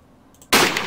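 A single loud hunting rifle shot in Fallout 3 cracks out sharply after a brief quiet pause, its blast ringing and decaying over the rest of the moment.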